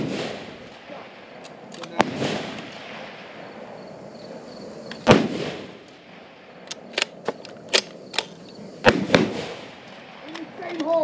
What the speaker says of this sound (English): just fire at will, 2 rounds